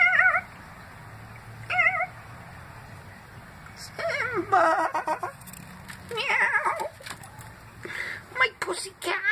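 Pet cats chatter and make funny chirping, meowing sounds while watching birds, several short wavering calls spread across the clip, close by, with a person talking in between.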